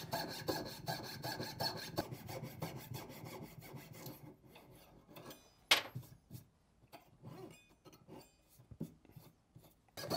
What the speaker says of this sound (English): Now I'm sawing out the section, the wedge section that I use for holding sheet while piercing.